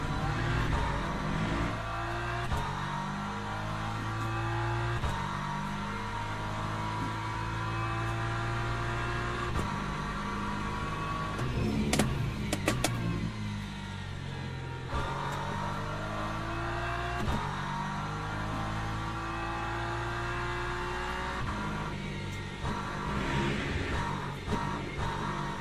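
LMP3 prototype race car in Le Mans Ultimate at Bahrain, engine droning steadily throughout with rising and falling revs as another car draws close and passes, loud and continuous.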